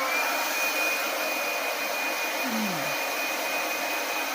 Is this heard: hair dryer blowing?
yes